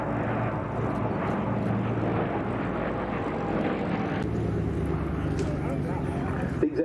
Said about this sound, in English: Leading them in, the Douglas DC-6B.